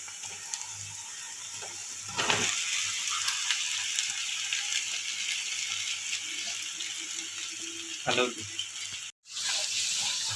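Potatoes tipped into a hot pan for a Marathi-style potato bhaji, with steady sizzling and frying crackle throughout and a brief clatter as they go in, no talk heard.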